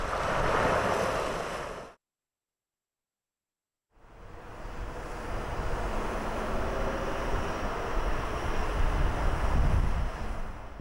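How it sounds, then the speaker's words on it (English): A Land Rover drives into deep water at speed, making a loud, broad rushing splash of churning water, cut by about two seconds of silence before the roar resumes and builds. "Creating a big splash may not only damage the environment, but also your vehicle."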